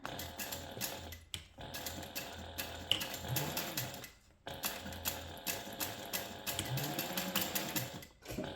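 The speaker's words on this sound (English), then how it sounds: "I'm just going to use a 1/2 inch seam allowance again and sew that together" A sewing machine sews a half-inch seam on a sublimated fabric pouch, running in several close, rhythmic bursts separated by short stops.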